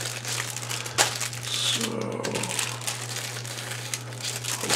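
A plastic bag around a Takom Panther D model kit sprue crinkles and rustles as it is opened, a near, continuous crackling with a few sharper crunches, under a low steady hum.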